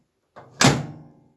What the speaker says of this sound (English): Let's see if the door will open and close now for us.